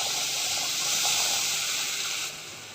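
Hot water poured onto roasted semolina (rava) in a hot pan throws up a loud, continuous hiss of steam that holds for nearly three seconds before easing slightly.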